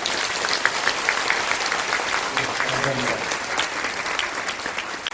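Audience applause at a Korean Christian business association New Year gathering, dense sustained clapping filling the room for several seconds, with a brief spoken word over it.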